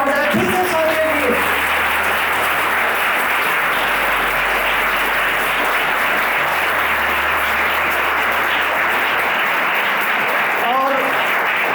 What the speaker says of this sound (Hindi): तो एक बार जोरदार तालियां हो जाए फिर से सर के लिए